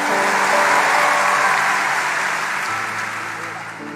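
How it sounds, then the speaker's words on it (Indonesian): An audience at a church service in Papua claps together, a dense sustained wash of applause that starts loud and slowly fades toward the end. "Kasih tepuk tangan untuk mereka"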